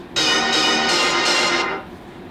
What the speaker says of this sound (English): So you have the reverb of the sound and then it just cuts.